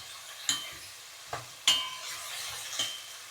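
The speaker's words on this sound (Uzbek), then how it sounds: "Va qovuramiz grechkani ham." Buckwheat fries in a pan while a utensil stirs it, giving a few distinct scraping strokes and clinks over a faint, steady sizzle, close by and with no voices.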